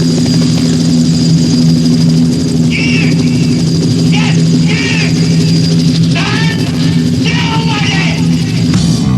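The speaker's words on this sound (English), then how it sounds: "That's an aeroplane." A light aeroplane engine drones loudly and steadily in the cabin, a constant hum throughout, while voices talk over it.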